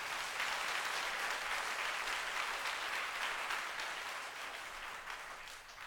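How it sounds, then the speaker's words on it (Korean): A church congregation at a Seoul district summer revival service claps together for its officers, a short burst of dense, moderately quiet applause that tapers off over a few seconds. "우리 사관님들을 위해서 박수 한번 쳐."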